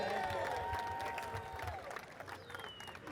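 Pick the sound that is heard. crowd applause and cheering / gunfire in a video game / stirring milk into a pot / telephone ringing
crowd applause and cheering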